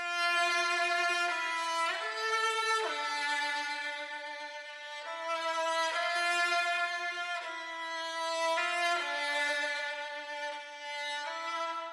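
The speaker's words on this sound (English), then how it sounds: "I have this cello loop," A cello loop pitched down for a dark rap beat, with wobble, EQ and vintage reverb effects, plays long sustained, smoothly gliding notes in a slow repeating melody, steady and full, heard alone.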